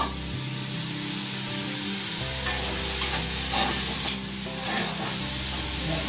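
Onions frying and being stirred in an iron kadhai, a steady loud sizzle running throughout with scraping stir strokes rising now and then near the middle and end.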